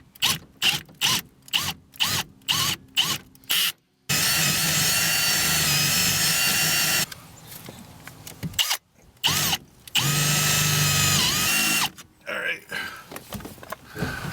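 A handheld drill bores into the body of a 1994 Ford Ranger XLT 4x4 in a junkyard, whining in short repeated bursts and then longer sustained runs, with pauses between and occasional talk.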